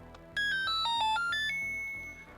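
A Legend of Zelda-themed calculator beeps out the short secret-found jingle, a quick run of bright electronic tones rising to a held final note, loud and close with no talk.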